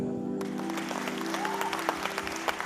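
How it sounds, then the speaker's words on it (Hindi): Audience applause at a diamond jubilee anniversary show, breaking out after a sung verse. The clapping rises abruptly and carries on as a dense, crackling patter, with sharper individual claps standing out near the end. "अब तालियां बजा सकते हैं।"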